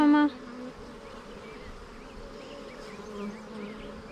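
Honeybees drone in a steady, close buzz from an open hive being inspected, a brief tonal sound at the start giving way to a constant low hum with faint passing whines of individual bees.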